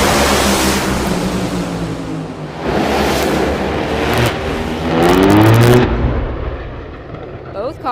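Two drag racing cars, Matt Hagan and Ron Capps, thunder side by side down the strip at Bradenton Motorsports Park, a loud sustained engine roar that swells and surges over eight seconds as an announcer talks over it.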